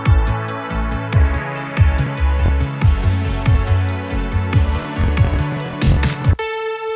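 Synthwave arpeggio with doubled notes panned left and right, a fast, loud pulsing synth pattern over punchy bass hits that ends on a sustained held chord.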